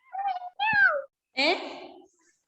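A voice imitates a cat, giving three drawn-out meows with pauses between them, close and clear.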